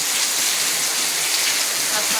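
Heavy rain falls outside in a loud, unbroken hiss, dense and even with no distinct drops or pauses.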